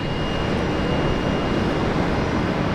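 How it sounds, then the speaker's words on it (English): A Qantas airliner lands at Brisbane Airport, a loud, steady, broadband jet roar with no talking and no breaks. "let's rate this landing, a Qantas butter machine"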